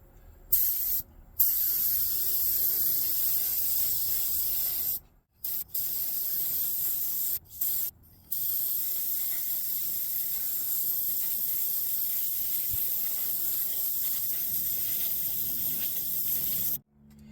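A spray can lays a light coat of paint on a 1/25 scale '71 Demon model car. Long hissing bursts come close up, separated by a few brief pauses.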